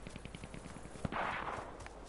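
Bursts of MP35 submachine gunfire in a video game, a steady run of quick rapid shots at moderate level with one sharper crack midway and a denser stretch of noise after it.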